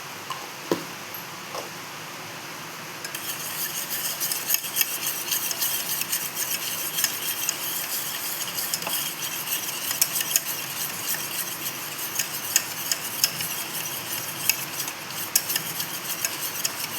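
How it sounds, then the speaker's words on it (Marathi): A spoon stirs Oreo cake batter in a bowl, making a continuous close scraping and swishing. It starts softly, then settles into a steady busy rhythm with occasional clinks against the bowl. "आता आपण ह्याला घोटून घेऊया."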